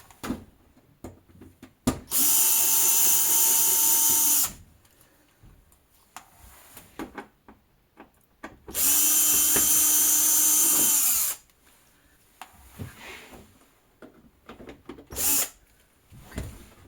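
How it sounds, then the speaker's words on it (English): A power drill or driver whines in two long bursts of about two and a half seconds each, taking screws out of a scrapped LED TV, with small clicks and handling knocks in between. "If I'm off camera, I'm just literally removing screws."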